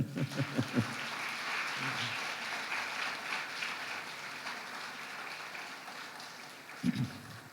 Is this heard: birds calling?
no